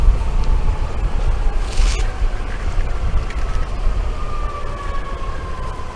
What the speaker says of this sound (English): It sounds like a fire truck or something over there.